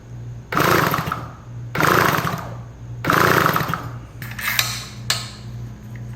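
A restored Yamaha CS3 motorcycle engine runs close by, with three loud revving bursts of about a second each over a steady idle, then a few shorter, sharper blips.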